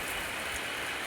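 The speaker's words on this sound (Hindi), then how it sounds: "तेज हो रही है बारिश" Heavy rain pours onto a rooftop as a steady, dense hiss, close and unbroken for the whole brief moment, with no voices.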